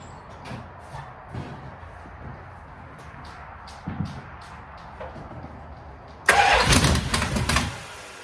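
A Mopar big block V8 with the choke on cranks over in several short bursts, then catches and fires into a loud, rough idle near the end.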